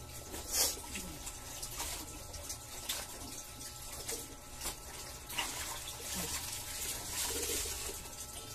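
Tap water runs strongly, a continuous splashing rush with occasional louder spatters and clinks, steady from start to end.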